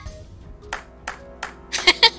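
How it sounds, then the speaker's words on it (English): Hands clap in a sparse, irregular series of sharp claps, quiet at first and louder toward the end, in a Zero Escape: Virtue's Last Reward playthrough. "You clapped your hands, right?"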